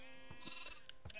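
Blocky sheep in Minecraft let out a few short bleats, with a louder, brighter bleat near the end, close and alone without talk.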